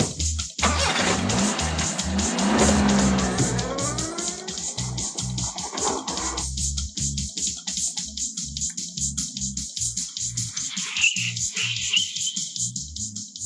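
A car drives off fast in a chase, its engine running loud and steady with rapid pulsing throughout, close by and with no talking over it.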